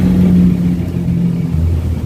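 A 2014 Suzuki Carry Futura pickup in good mechanical condition revs its engine up close, a loud, steady low rumble with a slight dip and recovery in pitch, with no talking.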